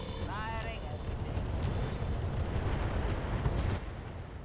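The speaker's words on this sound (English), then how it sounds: "we've got a shot onto the Sand Devil with the Firestarter" A Firestarter weapon fires from a mech in RogueTech, a heavy booming burst that rumbles on for several seconds with a rising whine near the start, loud and steady before cutting off.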